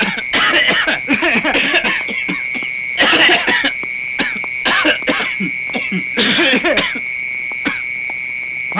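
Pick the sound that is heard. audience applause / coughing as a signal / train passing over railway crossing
coughing as a signal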